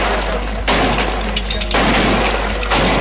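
Gunfire at a Pakistani wedding, bursts of rapid shots in two or three loud stretches over a constant low rumble, with faint background voices.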